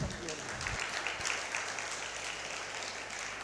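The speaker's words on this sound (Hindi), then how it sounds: "आपकी तालियां कमजोर हैं।" Applause rises from the audience at a Jain Panch Kalyanak ceremony in Haridwar, a continuous crowd clapping that fills a few seconds, with a low thump near the start and faint voices underneath.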